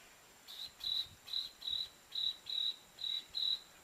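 A person imitates a grasshopper with eight evenly spaced, buzzy high chirps in a steady rhythm, close and moderately quiet against a hushed background.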